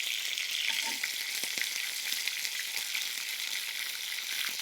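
Curry leaves and dried red chillies fry in hot oil with a steady, close hiss of sizzling and a few soft crackles and pops throughout.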